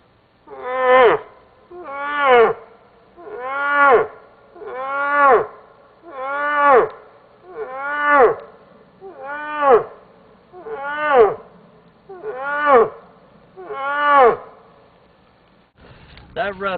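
Bull moose challenge call: ten loud, evenly spaced grunting calls about every 1.4 seconds, each a short, harsh, falling bellow with strong harmonics, heard alone and close.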